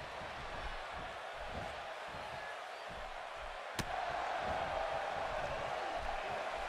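Loud, steady roar of an arena crowd at a WWE 2K18 video game wrestling match in Birmingham, a continuous wash of cheering with a sharp slam-like crack midway and the noise swelling slightly afterward.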